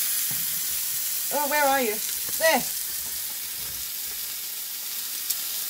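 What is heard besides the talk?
chicken wings frying in a pan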